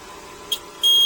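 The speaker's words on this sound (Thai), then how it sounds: "สัญญาณจะร้องเตือนอย่างนี้นะครับ" A short electronic beep sounds from a battery-restoration welding machine's protection system, likely signaling reversed clamps, then a second, louder warning tone starts and holds steadily to the end.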